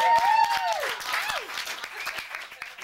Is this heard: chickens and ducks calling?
no